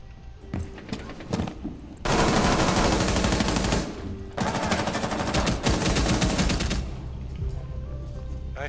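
Rapid automatic gunfire in Rainbow Six Siege plays in two loud sustained bursts, preceded by a few scattered single shots and followed by quieter background game noise.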